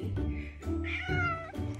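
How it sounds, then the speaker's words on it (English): A cat meows several times in quick succession, close and clear, the harmonic cries rising and falling with brief gaps between them. "Happy cat."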